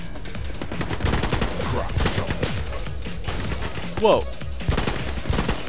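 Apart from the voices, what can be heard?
assault rifle gunshots in the video game The Club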